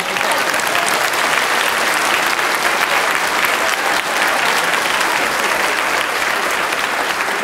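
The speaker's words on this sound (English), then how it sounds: "Round of applause." A live audience bursts into loud, dense applause that continues steadily and close, with a brief dip midway before the clapping resumes at full strength.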